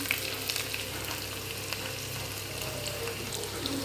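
Rice fries in a pan with a small shallot and a few garlic cloves, giving a close, even crackling sizzle that holds steady throughout with faint stirring, no voices.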